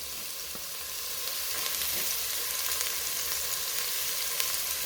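Onions and garlic frying in a pan for a peas and potato stew, a steady broadband sizzle with faint crackles and pops that grows a little louder after the first second and holds evenly with no voices.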